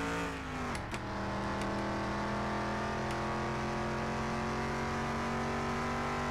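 Car accelerating hard in a car mechanic video game, engine pitch climbing steadily with a brief gear-shift dip early, then a sustained loud drone as it drives on, close and continuous with no talking.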